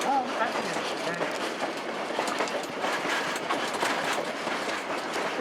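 Locomotive number 40 rolls along the rails on a heritage diesel and steam line, a steady rumbling clatter of wheels heard from on board, continuous and moderately loud with a voice talking over it.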